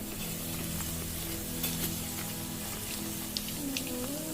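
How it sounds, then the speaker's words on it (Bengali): Puffy luchi, a flour dough made with salt, sugar and a little white oil, fries in hot oil with a steady, close sizzle and occasional crackles and pops throughout. "দারুণ সুন্দর ফোলা ফোলা বড় বড় ফুলকো লুচি গোপালের জন্য তৈরি করছি।"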